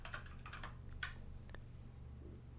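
Soft keystrokes on a computer keyboard while entering an axis title in a chart, a handful of quick taps near the start and then sparse clicks over a steady low hum.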